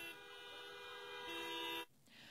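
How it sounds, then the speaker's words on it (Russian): Car horns blare in a long, continuous chorus as drivers protest huge queues at a border crossing, a steady loud honking that cuts off abruptly near the end. "водители в знак протеста в течение нескольких минут жали на клаксоны"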